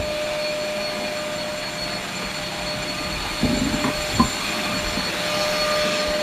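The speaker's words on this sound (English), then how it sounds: "When we're done grinding, make sure it goes empty." Filabot Reclaimer grinder running on plastic, a loud, steady mechanical whir with a constant tonal hum, broken by a couple of brief crunching bursts as material is chewed.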